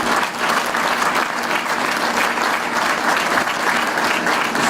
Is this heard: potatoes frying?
no